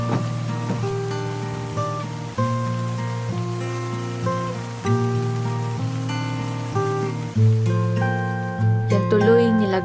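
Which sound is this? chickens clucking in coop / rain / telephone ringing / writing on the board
rain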